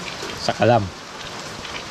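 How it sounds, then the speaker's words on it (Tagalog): Heavy rain pours down in a steady wash of noise, with a person briefly speaking over it. "Malakas yung ulan dito sa amin mga ka-channel."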